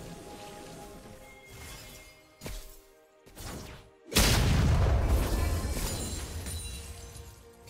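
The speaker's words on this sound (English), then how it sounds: "Team's turret has been destroyed." A turret is destroyed in League of Legends with a heavy booming crash that hits suddenly after a few softer thumps, then rumbles and decays over several seconds.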